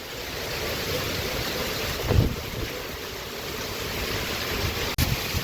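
Windstorm with rain in open farm country, a steady roar of gusting wind buffeting the microphone, with a louder gust midway and a sharp knock near the end.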